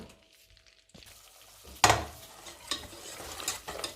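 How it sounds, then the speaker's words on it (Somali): Two spoons of flour frying in melted butter and oil, starting almost silent, then a soft sizzle rises with sharp utensil scrapes and stirring knocks near the pan. "yaro saliid ah ayaan isku dhalaalinayaa way dhalaaleen waxa ku soo darsaday laba qaado oo bur ah"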